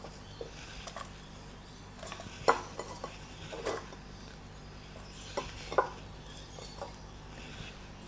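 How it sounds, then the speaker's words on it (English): Apple slices from two apples drop into a saucepan with a few soft clattering impacts and light scraping, close by against a quiet kitchen background. "I'm going to pop them into this saucepan."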